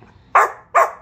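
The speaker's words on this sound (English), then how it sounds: "Hey, no barking." Two sharp, close barks from an Old English Sheepdog in quick succession, loud and clear against a quiet background.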